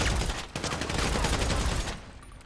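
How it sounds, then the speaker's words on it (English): Rapid bursts of gunfire in the video game GTA 5 crackle loudly and densely for about two seconds, overlapping shots blending into a continuous volley before tapering slightly. "I heard shots."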